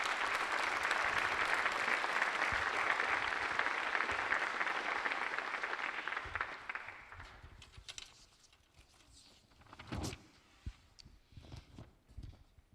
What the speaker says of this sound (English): How about a round of applause for Grace?